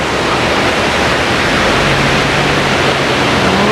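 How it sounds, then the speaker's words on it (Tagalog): Golden Waterfall near Taipei, its rushing water a steady, loud broadband roar that fills the whole stretch without a break. "Golden Waterfalls."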